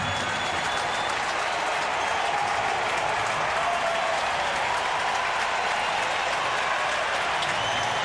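A big crowd at Pacific Bell Park in San Francisco applauds at a baseball game, a steady, dense wash of clapping and cheering that holds for the whole stretch without a break.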